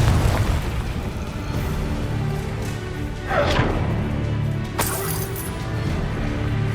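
A Confringo fire spell bursting in Hogwarts Legacy, booming blasts and crackling impacts rising over a busy game soundscape, with a sharp burst near the middle and another toward the end.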